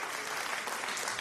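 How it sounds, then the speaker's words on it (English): A canned crowd cheer sound effect played during a live stream: a short, dense burst of clapping and cheering noise held at a steady level throughout. "That was a cheer."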